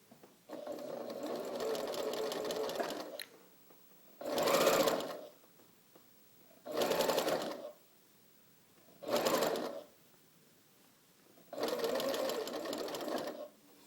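A sewing machine stitches a curved fabric seam for a Curves for Squares quilt block, running in bursts: one long run, three short runs and a final longer run, with brief quiet pauses where the fabric is pivoted.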